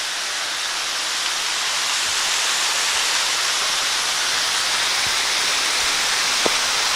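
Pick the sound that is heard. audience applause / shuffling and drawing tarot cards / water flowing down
water flowing down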